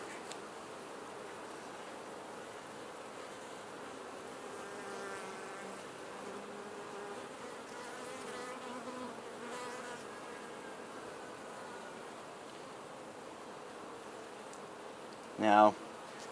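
Honey bees buzz steadily around an open hive during an inspection, a continuous low drone close by, with one brief loud knock near the end.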